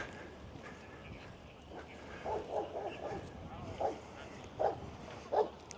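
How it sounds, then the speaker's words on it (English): Dogs bark at a seaside beach in Gorleston on Sea, Norfolk, a few short, fairly distant barks spaced apart over a steady background of wind and surf. "Dogs in the sea."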